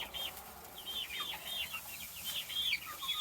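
Little Sebright rooster giving soft repeated clucks and chirpy calls, fairly close and steady over a quiet low background, no voices.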